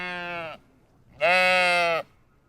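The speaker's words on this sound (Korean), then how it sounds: "네, 여러분들이 생각하시는 동물이 맞습니다. 양입니다." A sheep bleats twice, close and alone: a shorter wavering call, a pause, then a longer, louder, strained bleat.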